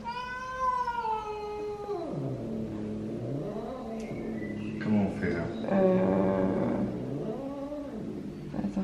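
Hostile neighbour cats yowl at each other before a fight, with long, wavering, rising and falling cries traded back and forth at close range. A person speaks briefly beneath the yowling.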